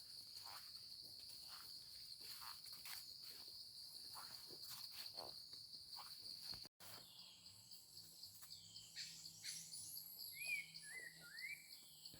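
Birds call and chirp over a rice field in Laos or northeast Thailand, with brief whistled notes in the second half above a steady, dense bed of cricket and insect buzzing.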